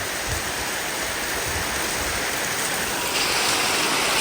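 Heavy rain pouring down outdoors, a loud, dense, continuous hiss that swells slightly toward the end, with no voices heard.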